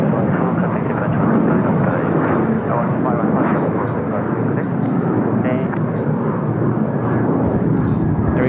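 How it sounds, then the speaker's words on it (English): A Shandong Airlines heavy jet departs Seoul Incheon Airport, its engines making a loud, steady broadband roar throughout while someone talks over it. "There we go, Shandong departing now."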